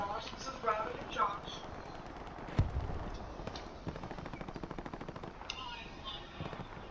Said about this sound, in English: Somebody's taking pot shots across. It sounds like they're sniper.